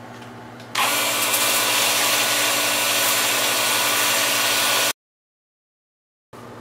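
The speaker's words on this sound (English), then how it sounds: "And now I'm just going to sand this off." A rustic alder wood bowl has its bottom sanded with a loud, steady power-sander whir that runs for about four seconds over a low hum, cuts off abruptly into silence, then briefly starts again.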